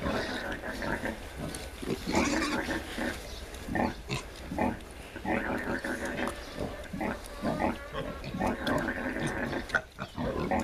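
A pregnant sow nursing piglets that are not her own grunts repeatedly in rhythmic, close oinks, mixed with piglet squeals and a person talking throughout.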